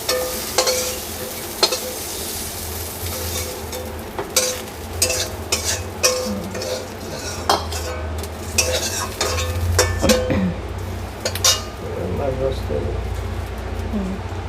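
Fried bitter gourd is stirred in a pan and lifted out, with repeated scraping and clinking of a spatula over a low sizzle of oil and a voice talking throughout.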